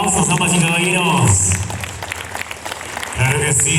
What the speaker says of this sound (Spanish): Muy bien, los aplausos, damas y caballeros.